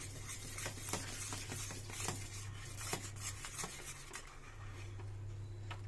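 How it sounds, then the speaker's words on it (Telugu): A spoon scrapes and clinks steadily against a pan while ragi rava is stirred continuously, soft repeated taps over a low stove hum, quiet and close, with no voices. "ఇలా కంటిన్యూస్గా స్టిర్ చేస్తూ మనం ఇలా మొత్తం రవ్వని కలిపేసి ఉండలు లేకుండా గబా తిప్పుకోవాలి"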